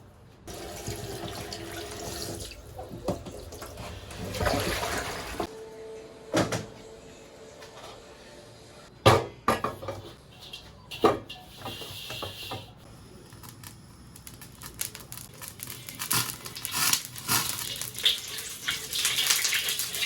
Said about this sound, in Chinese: 先把这个焯过水的这个猪蹄儿先洗一下